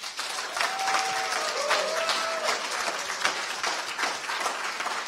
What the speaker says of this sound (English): I would like to end up with your big round of applause